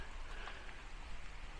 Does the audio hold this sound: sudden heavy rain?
yes